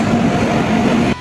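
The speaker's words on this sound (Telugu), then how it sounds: "మా భాగ్యనగర్ ట్రైన్ వచ్చేసింది." The Bhagyanagar train pulls into a railway station with a steady, loud rumble and low mechanical hum that holds throughout, then cuts off abruptly near the end.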